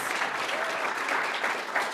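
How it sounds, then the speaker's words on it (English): Audience applause welcoming panelists at a marketing industry leaders panel: dense, steady clapping from a full room that holds loud and even for the whole two seconds. "Can I have a warm round of applause and welcome to our panelists?"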